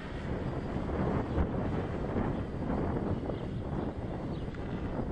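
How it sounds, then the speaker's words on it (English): Strong outdoor wind buffets the microphone while a gimbal drone is being flown. The rumble is steady and loud, with gusty swells throughout and no voices. "Yeah, it's quite windy."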